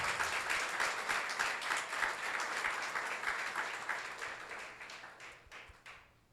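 A church congregation applauds loudly during a sermon, dense rapid clapping from many hands that stays strong, then tapers and fades out toward the end.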